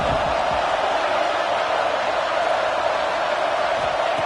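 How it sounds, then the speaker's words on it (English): Huge crowd roaring at a college football game between A&M and Alabama as the defense tries for a red zone stop, a dense, steady wall of loud cheering with no break. "And here comes the noise. This crowd is trying to inspire this defense to make a big red zone stop."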